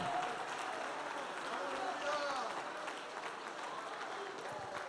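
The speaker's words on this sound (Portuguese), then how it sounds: "Os que concordam, aplaudam ao Senhor, dando glória, dando glória," A church congregation applauds together during a worship service, steady dense clapping that holds at an even level throughout, with voices mixed in.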